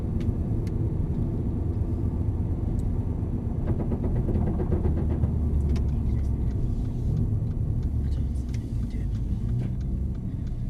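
A Mercedes-Benz car drives on a test track at around 30 to 35 mph, giving a steady low road and engine rumble throughout, with faint clicks and ticks from inside the cabin.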